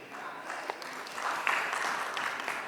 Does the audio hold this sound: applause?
yes